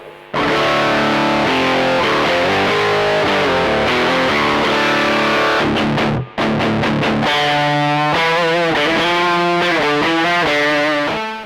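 Loud, bright distorted electric guitar riffs and chords through a Harley Benton RockPlug Classic Rock headphone amp with tone at maximum ring out continuously, with a brief choppy muted section midway before sustained notes resume.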